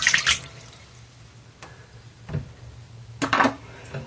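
Water poured into a cup while making batter for homemade sweet and sour chicken in a kitchen, heard as short splashing bursts and drips at moderate level, with no talking.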